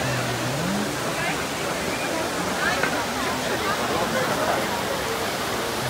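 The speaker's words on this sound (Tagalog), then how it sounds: "ang fountain" Water from the Trevi Fountain in Rome, Italy splashes and rushes in a steady, loud, continuous wash, with voices faintly audible beneath it.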